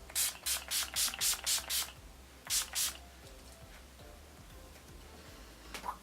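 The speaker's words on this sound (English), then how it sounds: "So this one's the Urban Decay De-Slick Setting Spray." A quick run of about six sharp bursts from an Urban Decay De-Slick makeup setting spray, then two more after a pause and one last short spritz, with quiet between.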